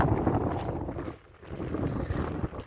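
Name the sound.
strong wind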